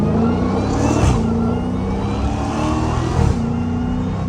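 A Dodge Hellcat in track mode roars hard under acceleration, its loud engine note climbing, breaking with quick gear shifts near one and three seconds, then pulling again, heard close from inside the car.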